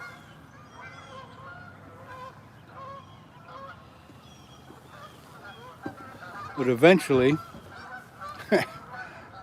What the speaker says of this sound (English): More and more geese are coming in all the time, so they're landing right in front of me on the river.